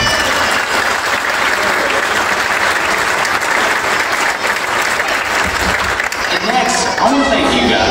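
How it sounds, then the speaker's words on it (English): An audience applauds at an elementary school Christmas program, a steady, dense wash of clapping from a large crowd that continues throughout, with a voice speaking over it near the end. "Just give it a round of applause."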